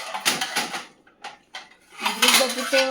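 Metal pots, pans and a flat tava griddle clatter and clink as they are handled close by in a kitchen, a few separate knocks followed by a ringing scrape.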